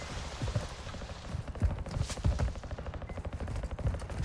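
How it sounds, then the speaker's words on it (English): Rapid gunfire in Call of Duty Modern Warfare 2, a dense continuous rattle of close automatic shots running throughout with no pause. "Stop shooting me."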